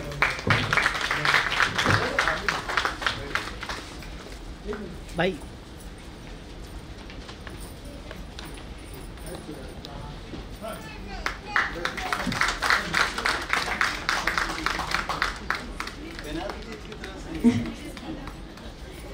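An audience applauds at an award ceremony with bursts of clapping that rise and fade over several seconds, while someone speaks over it.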